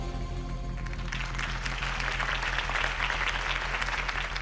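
Crowd applause for Harvey Dent's campaign speech in the Batman Telltale Series video game rises after a second over a low, sustained musical drone, then continues as a dense, steady wash of many hands clapping.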